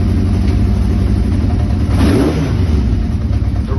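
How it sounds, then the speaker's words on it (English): A small engine fitted with a reworked carburettor and exhaust revs up once and drops back to a steady rough idle, loud and close with a dense low drone throughout and no talk. "The revs are dropping faster than before"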